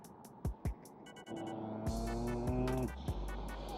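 Car traffic in a midday jam in Los Angeles, with a steady engine hum and low throbbing rumble, a couple of brief louder thumps early on, and tonal motor whines rising and falling as vehicles creep along nearby.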